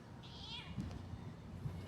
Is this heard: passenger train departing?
no